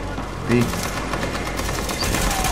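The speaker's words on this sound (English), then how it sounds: "even one guy's sort of pulled out an SMG then, or an LMG" Rapid gunfire from an enemy's SMG or LMG in the shooter game The Division, a steady rattle of shots running throughout, with someone talking over it.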